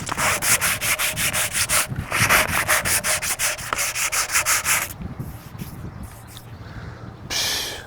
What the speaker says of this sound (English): I'm just gonna sand off the proud material of that Bondo that I put on.